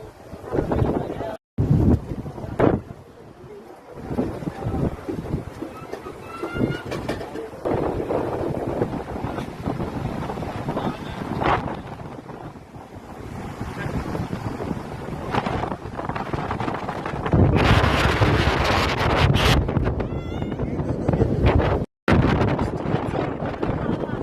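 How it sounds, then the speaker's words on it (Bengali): Strong gusty wind buffeting the microphone on the seafront at Digha after rain, roaring and surging for a long stretch with brief muffled voices underneath. "এত হাওয়া দিচ্ছে এখানে"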